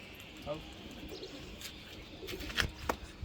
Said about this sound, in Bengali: ওটা তো ফেন্সি কবুতর